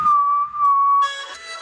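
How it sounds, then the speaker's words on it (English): An EDM synth lead with an unwanted whistling resonance, a thin sustained pitched whistle that holds for about a second before brighter synth tones take over. "As you can hear, there's a whistly sound in there, didn't like."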